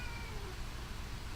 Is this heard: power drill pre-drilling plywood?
no